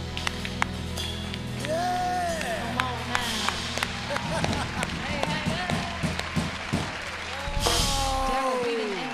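A prerecorded applause track plays during a live show, with scattered claps and crowd cheering mixed over lingering music and babble, swelling in a burst near the end.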